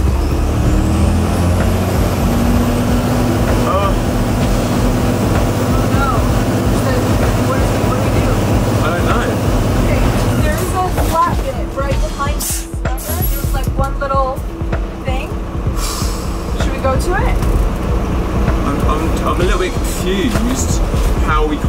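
A van engine pulls in first gear with a steady low diesel drone and a rougher, shifting roar later on, loud and continuous, while people talk over it now and then.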